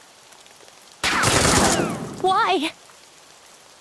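Burst of heavy rain in the video game Gears of Rebellion, a sudden loud dense hiss of drops lasting over a second and then cutting off, with a brief spoken word near its end.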